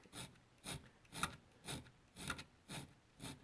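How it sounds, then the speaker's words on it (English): A rough file rasps rhythmically across an AK-47 rifle part, about seven strokes at a steady pace. It is close but faint, with no speech. "So we'll start with a rough file here"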